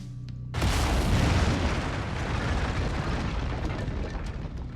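Medium lasers firing in the mech combat game MechWarrior 5: Mercenaries, a sudden loud burst that holds as a sustained, roaring discharge for several seconds with no talk.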